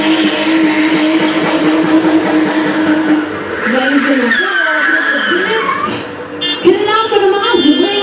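BMW E36 driven hard at a driving event, its engine accelerating loudly under continuous crowd noise and an announcer's voice, with tire squeal rising near the end.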